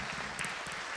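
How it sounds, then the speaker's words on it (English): Audience applauding at a political launch event in Ireland, a brief, fairly quiet wash of clapping from a crowd, steady for about a second with no voices over it. "So a really great applause for those people."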